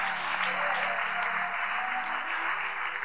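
Congregation at a Sunday morning prayer service applauding, a thick sustained patter of many hands at steady loudness, with faint background voices mixed in.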